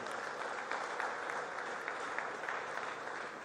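Audience applause fills a conference hall during a regional town hall meeting, a steady dense clapping wash sustained throughout with no talking.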